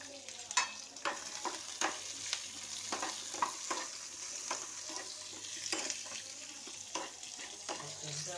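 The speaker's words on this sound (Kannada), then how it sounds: "ಚೆನ್ನಾಗಿ ಗೋಲ್ಡನ್ ಕಲರ್ ಬರೋವರೆಗೂ ಫ್ರೈ ಮಾಡಬೇಕು" Onions with cashews fry in a pan until golden, a continuous moderate sizzle broken by frequent spatula scrapes and stirring taps, close and without talk.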